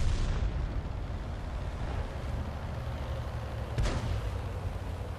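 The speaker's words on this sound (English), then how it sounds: "The SU-152 may be firing heat, or the guy took an arty strike" A heavy gun blast or artillery strike in a World of Tanks–style battle involving an SU-152 tank destroyer: a rumbling boom that trails into steady low battle noise, with a second sharp crack near the end.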